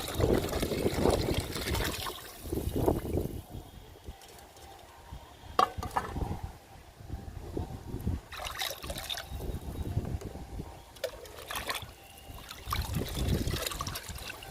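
Liquid plant fertilizer is diluted with water, producing intermittent pouring, trickling and stirring splashes in uneven bursts, moderately close, with no voices.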